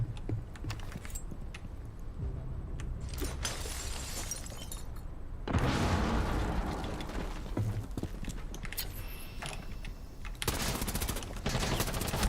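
Video game gunfire with heavy recoil, rapid bursts of shots and mechanical clatter over a continuous noisy background, loudest in a dense middle stretch and again near the end.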